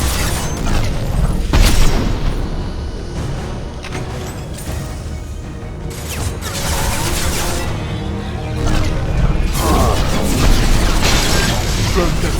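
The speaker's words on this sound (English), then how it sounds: "Watch out, flashbangs!" Flashbang grenades go off in a Mass Effect 2 firefight: several sharp booms and bursts land over dense, continuous combat clatter and mechanical noise, loud throughout with no voice clearly picked out.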